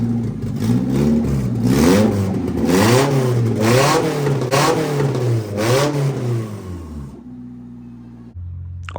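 A 1996 Honda Civic CX hatchback engine revs repeatedly, rising and falling in several close, loud surges before dropping to a quieter idle and cutting off.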